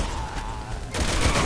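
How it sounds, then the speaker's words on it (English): A sniper rifle fires in the Resident Evil video game, a loud dense blast about a second in that swells over the ongoing game noise and stays heavy to the end. "Use your sniper."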